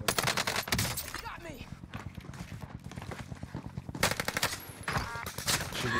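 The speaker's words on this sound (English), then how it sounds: "She just sniped the fuck out of me" Rapid repeated gunfire in Warzone, a fast rhythmic stream of shots with brief pauses and a renewed burst near the end, mixed with game effects.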